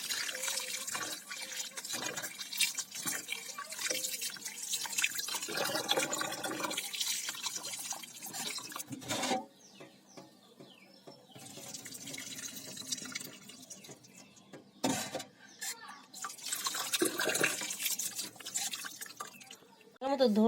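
Cut potatoes washed in water for potato balls, with splashing, dripping and trickling in bursts and a couple of quiet pauses, while a voice talks through much of it.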